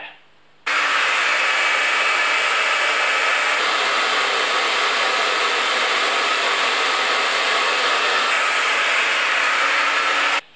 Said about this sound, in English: do not ever use a cleaver taped to a hairdryer